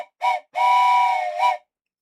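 A train whistle from the OpenTTD train simulation game sounds three blasts: a short toot, a long sustained tone, then a final short toot, clear and loud against silence.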